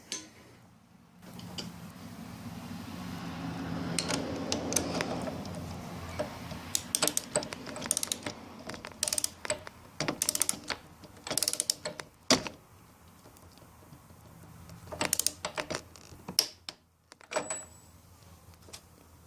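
Torque wrench tightening a Yamaha FJ-09 motorcycle steering stem nut, with irregular sharp metallic clicks and creaks from close by over a faint background hum.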